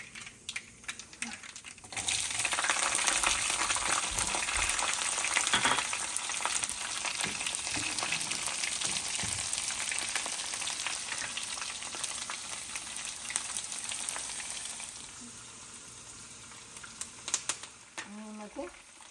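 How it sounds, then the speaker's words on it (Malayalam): Garlic goes into hot oil that already holds mustard seeds and chillies for a tomato pickle. After a brief quiet start it bursts into a loud, close, steady sizzle that lasts about thirteen seconds, then fades, ending with a few faint clinks. "ഇനി നമുക്ക് വെളുത്തുള്ളി ഇടാം."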